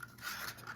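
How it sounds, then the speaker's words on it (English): Leftover resin scraped out of a cup with a tool, a faint, steady rubbing scratch that runs continuously and close by with no talking. "Scrape every last bit out."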